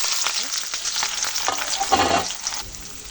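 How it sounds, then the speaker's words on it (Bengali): Onion frying in a hot kadai for a chicken and new potato curry, a loud, dense sizzle with a few spatula scrapes, close up and without talk. "এখন আমি এখানে কড়াইটাও গরম করে নিছি। কড়াইয়ের ভিতরে আমি পেঁয়াজটা হালকা"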